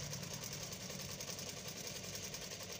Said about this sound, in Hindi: ये मैं जल्दी जल्दी सिलाई लगा देता हूँ